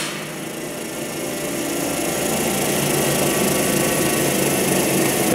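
Burr Oak M5-STCO straight tube cut-off machine spinning down on its bearing after the motor is switched off, a steady, close whirring rotation hum that holds strong and even, slightly rising in level, with no talk.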